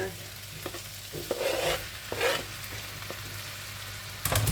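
Meat and tomatoes cook in a pan, a quiet steady sizzle broken by a few scraping stirs with a spoon, close and alone without speech.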